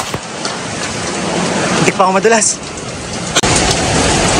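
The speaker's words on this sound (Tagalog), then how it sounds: "Grabing bagyo to." Heavy typhoon rain roars steadily during a severe storm, with gusty bursts and a sharp crack near the end, while a person speaks briefly over the downpour.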